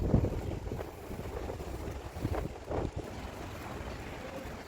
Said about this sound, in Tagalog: Mahangin guys, mahangin.